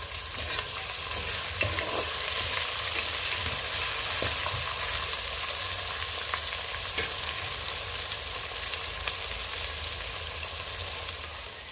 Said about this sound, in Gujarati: એની અંદર હવે નાખીશું આપણે મોટા ચોપ કરેલા મોટું કટિંગ કરેલું ટામેટાં આવી ગયા